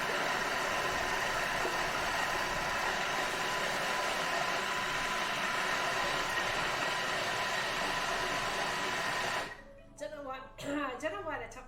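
A food processor whirs steadily for about nine seconds as it blends carrot cake batter with almond meal, a loud even motor drone that cuts off abruptly before a voice speaks.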